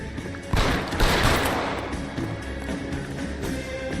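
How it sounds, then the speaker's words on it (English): A gunshot rings out in L.A. Noire as a detective fires at a fleeing suspect, a loud sharp report around the half-second mark with a rolling echo that decays slowly beneath steady game ambience. "Sabo, stop or I will shoot."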